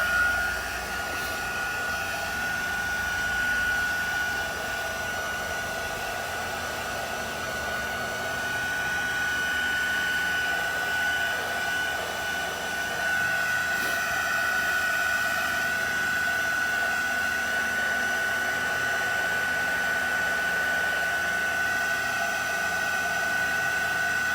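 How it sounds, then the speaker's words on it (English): Continuous whooshing blow of a heat tool drying a flat watercolor wash, close and steady with a thin high whine, running alone for the whole stretch with no talk. "So I'm going to dry this with my heat tool."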